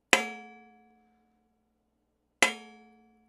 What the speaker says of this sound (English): I started hitting it and I came up with this just on its own. Really nice bell sound.